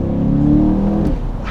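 C8 Corvette Stingray convertible with a dual-clutch transmission pulling hard under load, a steady close engine drone that shifts pitch briefly near the end as the gearbox changes.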